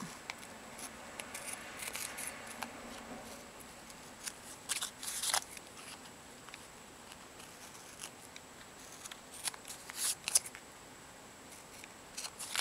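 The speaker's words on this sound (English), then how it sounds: "I'll go ahead and cut these off" Scissors snip paper edges over an Altoid tin, quiet close crisp cuts in scattered bursts, sharper clusters near the middle and end, with no talking.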